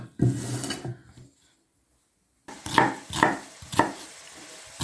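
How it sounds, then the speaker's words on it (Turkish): Onions are diced with a knife on a cutting board for a börek recipe. A short murmur of activity comes first, then a pause, then three or four crisp, close knife chops land in a loose rhythm. "O kavrulurken biz de soğanlarımızı doğrayacağız"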